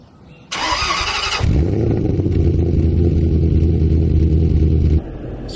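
Cold start of a supercharged V8 Range Rover L322 with an aftermarket exhaust: a brief starter whir, then a loud bark as the engine catches, settling into a deep, steady, rumbling idle before dropping off near the end.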